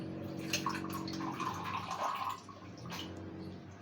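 Barley water being poured through a strainer, a steady trickling and splashing of liquid running continuously at close range, with small drips near the end and no talking.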